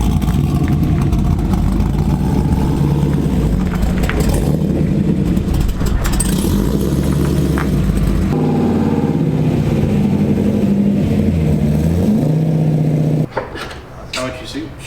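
A Corvette with an LS engine and a homemade camshaft, driving on the road. The engine drones loud and steady, with shifting revs and a rough mid-range note, before dropping off sharply near the end.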